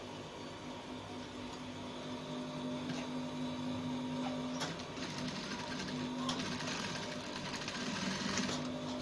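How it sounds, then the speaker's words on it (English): A sewing machine runs steadily, stitching the notch collar of a button-down shirt, with a continuous whirring hum and a few brief pauses and restarts. It sounds close but fairly quiet, with no talk over it. "Then we sew this point straight."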